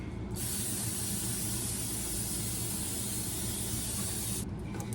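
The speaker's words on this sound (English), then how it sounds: "Spray your pans." A steady, continuous aerosol cooking spray hisses loudly into a baking pan for about four seconds without pause, then cuts off abruptly.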